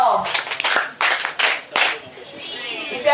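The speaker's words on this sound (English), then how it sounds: "Let's clap for ourselves." Bursts of group clapping from an audience at a reading marathon session, several short rounds of hands clapping in rhythm that start and stop, with some chatter and children's voices in between.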